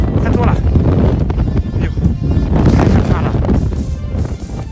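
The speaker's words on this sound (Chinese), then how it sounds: "大风来了啊！" A strong gale roars in a continuous heavy rush with gusty surges and microphone buffeting during a severe windstorm in northern China, with a voice talking over it.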